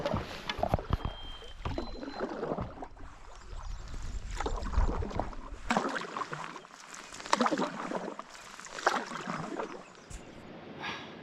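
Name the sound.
paddling a canoe on water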